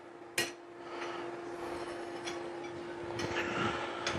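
Single sharp metallic strike of a hammer on steel while forging slot jaw tongs, followed by fainter clinks and a lingering ring over a quiet workshop background.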